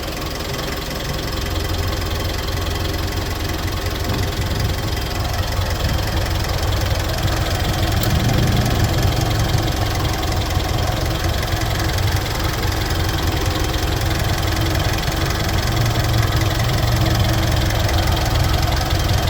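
A 2012 Mitsubishi Pajero Dakar 4x4 engine idles steadily, a loud, close, even diesel-like clatter and rumble that runs without a break.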